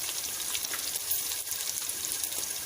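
Ingredients for moong dal khichdi fry in hot oil, a continuous crackling sizzle at even volume with a fine spitting texture throughout and no talking.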